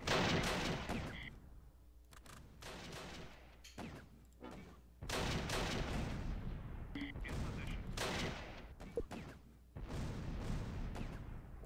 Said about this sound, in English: Mortar barrage, interesting.